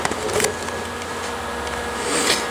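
A hand tap cuts threads into a rusty bolt hole on a Gravely Super Convertible tractor, giving close, rasping, scraping grinds in short uneven strokes.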